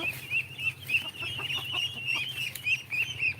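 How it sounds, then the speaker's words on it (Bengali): A flock of eighteen ducks being taken to a pond calls in quick, overlapping quacks and chatter, fairly close, with occasional wing flutters and a steady background hum. "আমাদের এই হাঁসগুলো আলহামদুলিল্লাহ এখানে আঠারো পিস হাঁস আছে"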